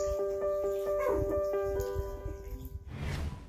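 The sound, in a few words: husky dog barking loudly for help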